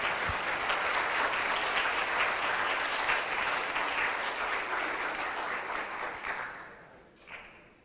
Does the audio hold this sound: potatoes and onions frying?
no